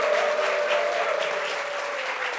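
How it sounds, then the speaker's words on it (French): An audience at a meeting applauds in a steady wash of moderate clapping. A faint sustained tone runs underneath, and no voices are heard. "Applaudissements quand même."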